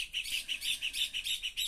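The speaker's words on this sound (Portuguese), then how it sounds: "O passarinho já tá cantando." A small bird sings at morning beside a Kombi camper van, repeating rapid high chirps in a steady rhythm, moderately near and alone against quiet background.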